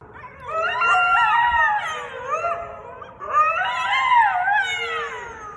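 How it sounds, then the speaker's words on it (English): A coyote at Kirby Cove, a beach area, lets out two long, wavering howls, each rising and falling in pitch, loud and close with only faint background noise between them. "San Francisco photographer Scott Oler, a coyote is seen exploring Kirby Cove, a beach area"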